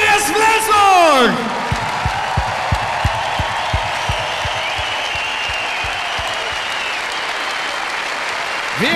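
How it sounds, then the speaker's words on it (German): Handball arena crowd erupting in loud applause and cheering, dense clapping with whoops and shouts after a brief announcer's voice, sustained for several seconds. "Und hier ist euer Applaus, hier ist der erste Mann, hier ist Flensburg!"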